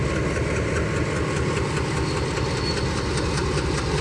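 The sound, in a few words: train passing on a new railway track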